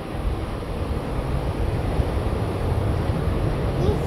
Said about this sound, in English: one heavy plane.